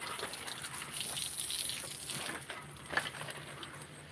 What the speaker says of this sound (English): I need to water these pots right here, YouTube friends, for the reason that they are elevated above the ground